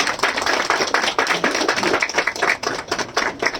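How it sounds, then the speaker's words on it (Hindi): Scattered hands clap at a police battalion transfer party to welcome a constable presenting a gift, the claps uneven and moderately close, forming a modest ragged round without voices. "तालियों से स्वागत करेंगे।"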